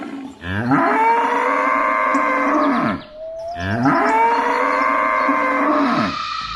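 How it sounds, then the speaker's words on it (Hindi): A pregnant cow in a cartoon story bellowing in pain, two long, loud, drawn-out moos in a row, close and alone with no talk. "ये तो मेरी गाय की आवाज है।"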